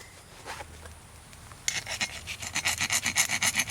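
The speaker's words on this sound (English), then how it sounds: "that's more than enough for making sure that the file will skate." A file dragged across tempered truck leaf spring steel, close rhythmic rasping strokes that start abruptly and settle into a steady back-and-forth scrape, loud and alone.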